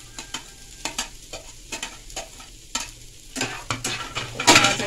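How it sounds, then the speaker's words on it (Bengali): A pre-fried egg is tossed and stir-fried with other filling in a pan for egg spring rolls, with rhythmic spatula stirring strokes over a crackling, sizzling fry, close and fairly loud. "এবারে আমি আগের থেকে ফ্রাই করে নেওয়া ডিমটা এর মধ্যে দিয়ে দিচ্ছি"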